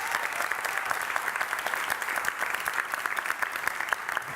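Conference audience applauding the Case Foundation, a dense, steady wash of many hands clapping that holds at an even level from start to end with no voices on top.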